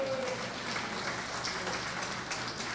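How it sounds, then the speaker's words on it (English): A fair crowd in the show ring at a county fair sheep and goat show claps steadily for two young exhibitors. The applause is a soft, continuous patter heard from a distance. "Let's give both these young ladies a good round of applause."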